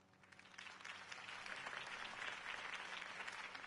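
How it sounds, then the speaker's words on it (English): Crowd applause in the Batman Telltale Series video game: a steady wash of many hands clapping, rising quickly and holding at a moderate, fairly distant level for several seconds. "could have heard that applause"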